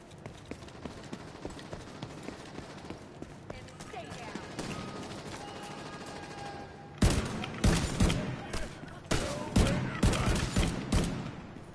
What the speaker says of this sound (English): No shooting on my streets